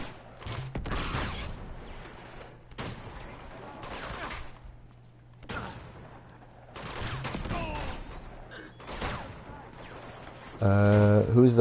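Bursts of gunfire in the action game Uncharted 2: Among Thieves, coming as scattered volleys and separate shots with pauses between them, ending in a louder tonal swell.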